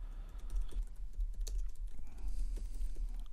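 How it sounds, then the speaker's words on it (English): Keys on a computer keyboard clatter in a quick, irregular run of close, soft clicks, heard alone at a quiet level. "if I can type it in the correct font"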